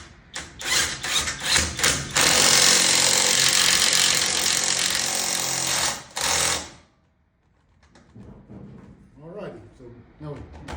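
An Alloyman 20V cordless impact driver hammers a wheel nut on tight in a loud, steady burst of rapid rattling impacts that stops abruptly, followed by quieter handling sounds and a person talking.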